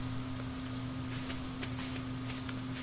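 Steady rain hiss falling in the Stardew Valley farming game, a continuous soft wash with scattered faint droplet ticks over a low constant hum, no voices.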